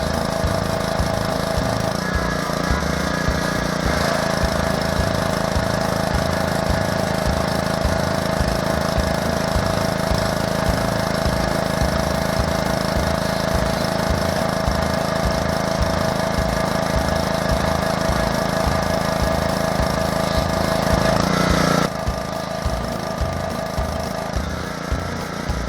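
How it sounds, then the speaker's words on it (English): Steady, loud engine drone of a pressure washer running throughout, with a broad hiss from the spray blasting old wood on a house dormer during shingle and dormer repair work; no talking. "There you can see what it looks like after just blasting it with the pressure washer."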